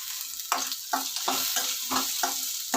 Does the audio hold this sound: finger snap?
no